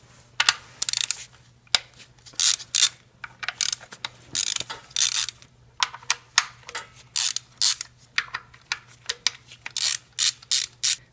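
Ratchet clicking in quick repeated bursts while backing out 10mm valve cover bolts on a Toyota Matrix/Corolla 1ZZ engine, close and loud with short pauses between runs, no talking.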